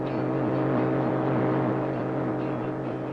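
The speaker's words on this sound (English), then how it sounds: "It is the sound of jamming." Soviet radio jamming noise over a Radio Free Europe broadcast: a dense, steady droning roar with a warbling buzz, continuous and unchanging throughout.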